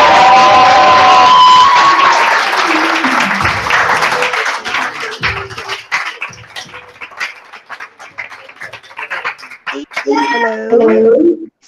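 A loud burst of audience applause and cheering greets trainer Hila as she takes the stage, with shrill whistles near the start, then thins out as a voice begins talking.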